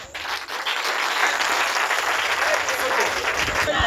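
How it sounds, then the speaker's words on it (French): Loud, sustained applause from a gathered crowd clapping for children at a school kit donation event in Alhambra, a dense wash of many hands that swells quickly and holds steady throughout. "On applaudit pour nos enfants"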